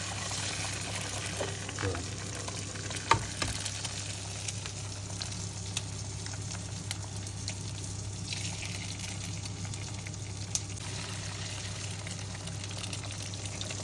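Eggs frying in a pan for a full English breakfast, a soft steady sizzle over a low hum, with a few faint clicks and knocks and no clear talk.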